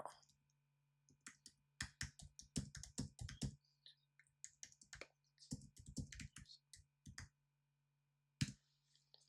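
Keys clatter on a computer keyboard in quick bursts of close, crisp clicks separated by short pauses, with one sharper isolated key strike near the end and a steady low hum beneath.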